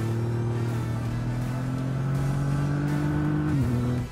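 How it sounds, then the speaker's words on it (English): Triumph Rocket 3, a very large-displacement motorcycle, runs at a steady, deep engine drone that holds loud and constant before its pitch drops sharply near the end as the revs fall. "This hog is the largest displacement motorcycle in the world"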